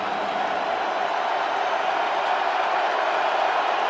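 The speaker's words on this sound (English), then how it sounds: "Crowd urging on the Seahawks defense." A stadium crowd at a Cardinals at Seahawks NFL game roars steadily in support of the Seattle defense, a dense, unbroken wall of cheering noise throughout.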